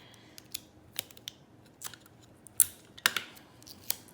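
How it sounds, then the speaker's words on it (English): Tape being pulled and wrapped around a rain stick tube, heard as sparse, close ripping and crackling snaps with quiet gaps between them and no talk. "Still taping, just going around the circle here."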